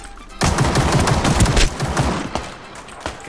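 An SMG fires in a Ring of Elysium gaming match, a loud, close, continuous burst of rapid shots for about a second and a half, then tapering off into a few scattered single shots.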